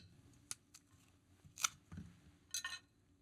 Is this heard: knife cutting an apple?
yes